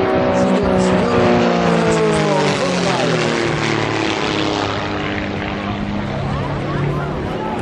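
Aerobatic propeller airplane performing at the Jesolo European Airshow, its engine droning loudly with sweeping pitch shifts as it passes, joined by faint talk from a commentator.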